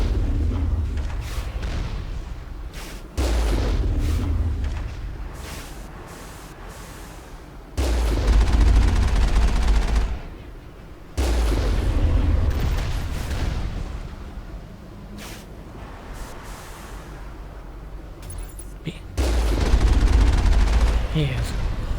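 Video game firefight in Mass Effect, with bursts of rapid gunfire and booming shots coming in loud clusters separated by brief lulls, and a voice talking over parts of it.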